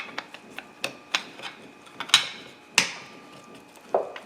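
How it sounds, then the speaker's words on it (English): Plastic retaining clips on a 2004-2005 Chevy Malibu Classic being pried down with a screwdriver, giving a series of sharp clicks and snaps, two of them louder, close up with no talking. "we're just going to pry these down just a little bit with a screwdriver"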